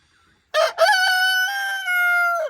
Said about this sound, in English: That's right, Mr. Rooster